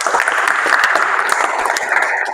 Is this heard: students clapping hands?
yes